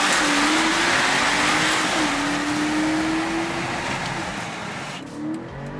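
A new BMW X5 SUV accelerating hard in launch-start mode, its engine note climbing steadily with a gear shift partway through and then fading as it keeps pulling, loud and continuous with no talking.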